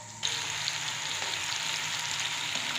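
Tomato paste cooks for mash ki dal in a hot pan, bursting into a sudden sizzle that settles into a steady, close frying hiss with faint crackles and no voices.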